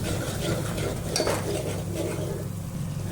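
Egg curry is mixed in a pan, with a spoon scraping and clinking against the metal over a low frying sizzle.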